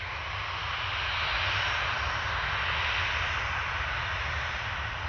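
An Air Caraibes A350-900 airliner taxis toward the runway at Orly airport, its engines producing a steady, even roar with a hissing whine on top, continuous and fairly close, with no voices.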